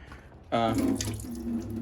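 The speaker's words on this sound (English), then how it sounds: "this actually works to get some of that water out of the tofu brick" Water pressed out of a tofu brick runs in a steady, close trickling stream into a sink after a brief quiet start, continuing evenly to the end.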